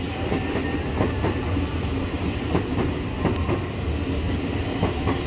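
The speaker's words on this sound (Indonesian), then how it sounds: "Jalur 7 dari arah selatan, diperkirakan tujuan Tanah Abang dari Ampe Kampung Bandar Jatinegara rangkaian 12 kereta." A KRL Commuter Line electric train, a 12-car JR 203 set on track 7 coming from the south, rolls into Manggarai station in Jakarta, wheels clicking rhythmically over rail joints in a steady, loud, close rumble with no talk.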